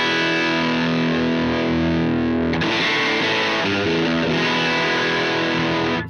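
Electric guitar through a Disorder overdrive pedal at its default setting, feeding a Fender tweed-style amp: a sustained, thick distorted chord rings out, then a busier run of gritty, fuzzy notes and chords, loud and close with no voices.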